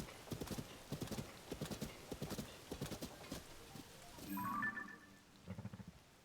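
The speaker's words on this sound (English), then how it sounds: "It's Bokoblins on a horse, and they have a little cart." Hooves of a Bokoblin-ridden horse pulling a small cart clip-clop in a steady, fairly loud rhythm in Tears of the Kingdom, followed by a brief whinny and game chime before a few more hoofbeats.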